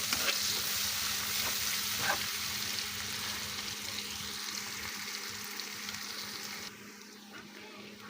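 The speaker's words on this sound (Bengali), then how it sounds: "দিয়ে দিলাম কড়াইতে পরিমাণ মতো তেল, তেলে দিয়ে দিলাম কেটে রাখা পেঁয়াজ" Chopped onion sizzling in hot oil in a kadai, a steady close-up crackle and hiss with occasional stirring scrapes, easing slightly toward the end.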